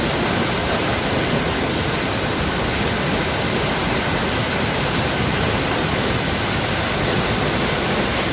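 Steady, loud broadband rush of a waterfall in an Austrian mountain valley, continuous and unbroken throughout with no voices, sounding close and full.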